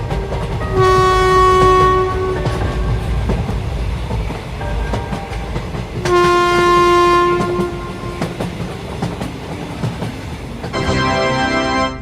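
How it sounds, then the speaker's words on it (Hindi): Cartoon train pulling away and running: a loud, close horn sounds three times in long toots over a steady rumble and rhythmic clatter of wheels on rails, with no voices. "अच्छा हुआ ड्राइवर ने ट्रेन को स्टार्ट कर दिया"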